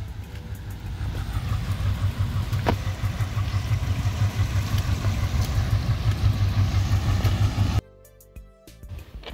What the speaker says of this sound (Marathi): ट्रेनचं इंजिन किंवा रेल्वे इंजिन येत आहे आमच्या दिशेने